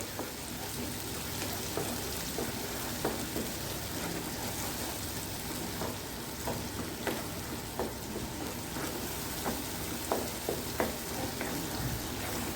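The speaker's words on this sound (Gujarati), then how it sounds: "હવે સાતળી લેશું જ્યાં સુધી તેલ છૂટું પડે ત્યાં સુધી" Onion and chana dal masala sautéing in oil for a Kathiawadi curry, a steady broadband sizzle with scattered soft spoon scrapes and ticks throughout, close and continuous with no talking.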